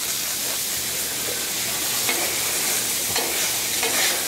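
Garlic and olive oil frying on a hot griddle with shrimp nearby, a steady close sizzling hiss with faint scraping of stirring, no talking.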